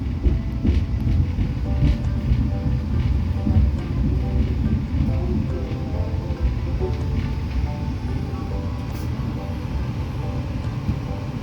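Argo Lawu passenger train pulling into Klaten station, a steady loud low rumble of wheels and carriage noise heard from inside throughout, with faint clatter and no talk.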